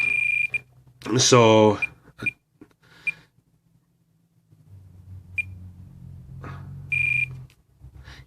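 Spektrum DX9 radio-control transmitter sounding its timer alarm, several short sharp beeps spaced across the clip, with someone speaking briefly between them.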